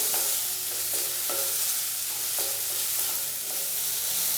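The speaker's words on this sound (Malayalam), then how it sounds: "ഇത് രണ്ടും ചേർത്ത് കൊടുത്തിട്ട് വീണ്ടും നല്ല രീതിയിലൊന്ന് വഴറ്റി കൊടുക്കുകയാണ്" Ginger garlic paste sautéing in a pan for a Kerala-style drumstick dish: a continuous loud hissing sizzle with regular scraping stirs cutting through it, close up.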